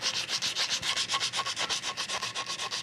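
A bicycle headtube bilaminate lug is hand sanded by fingertip, producing fast rhythmic rasping strokes, about seven per second, close and even, alone without voices.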